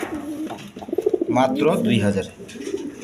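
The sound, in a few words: pigeons cooing at a farm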